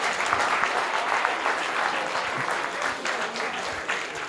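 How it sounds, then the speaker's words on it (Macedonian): Audience applause fills a programming talk's lecture hall, a steady, close burst of many hands clapping without voices. "Ова заслужува аплауз, дефинитивно."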